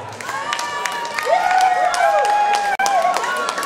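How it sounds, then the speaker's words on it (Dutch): Audience applause at a fight event for fighter Robert van Bijsterveld: a steady bed of crowd clapping and noise, with whistle-like tones gliding above it and a brief drop near the end. "Ook graag applaus voor Robert van Bijsterveld."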